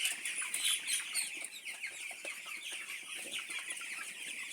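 Several chickens cluck and chatter close by in a quiet coop, a busy run of short, overlapping clucks with no talking.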